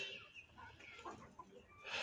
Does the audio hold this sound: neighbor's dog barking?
no